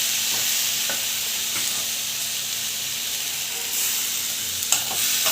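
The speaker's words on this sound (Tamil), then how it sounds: "நல்லா வதக்கிட்டுக்கோங்க" Onions and tomato sauté in a pan, a steady close sizzle and hiss of frying with faint stirring scrapes running continuously throughout.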